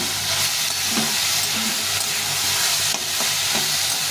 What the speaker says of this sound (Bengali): সামান্য একটু পোস্ত বাটা করেছি নামানোর সময় দিয়ে দিই দিয়ে এভাবে ভেজে নেব